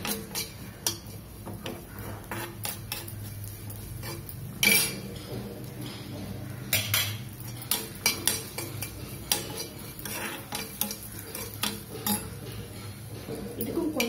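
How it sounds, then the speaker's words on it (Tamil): A metal spoon stirs and scrapes mango ginger in a pan while it sautés lightly, giving repeated clinks and taps against the pan over a steady low hum. "நான் இப்ப இதுல கொஞ்சம் மாயிஞ்சியும் போட்டு லைட்டா வதங்கினா போதுங்க"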